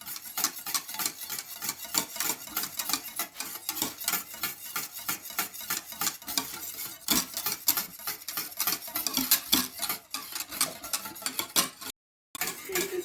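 A spoon stirs plain yogurt into a coffee ice cream mixture, making rapid, continuous clinks and scrapes against the container close by, with a brief drop-out near the end and no speech.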